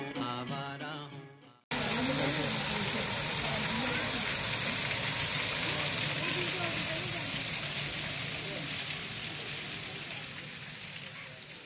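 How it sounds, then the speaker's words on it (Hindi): A waterfall at Kidney Hill in Karachi roars in a loud, steady rush of falling water that fades slightly toward the end, with someone speaking briefly at the very start. "हमारा वाटरफॉल"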